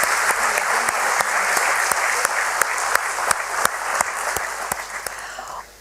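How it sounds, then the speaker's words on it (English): Steady, dense applause from a ceremony audience at the Tata Motors commercial vehicle listing event on the BSE, with distinct sharp claps over a continuous wash of clapping that cuts off abruptly near the end. "Thunderous round of applause, don't you think so"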